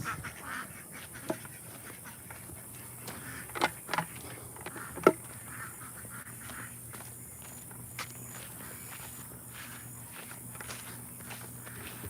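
Farm ducks quacking near morning chore pens, scattered quacks mixed with footsteps and a few sharp knocks over a steady low hum, no talking.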